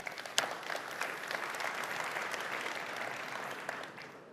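Audience applause in a conference hall, a dense, sustained clapping from a large room that begins sharply and fades slightly toward the end.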